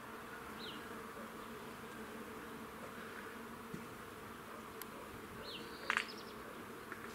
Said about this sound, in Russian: Я думаю, вам слышно, как гудут пчелы.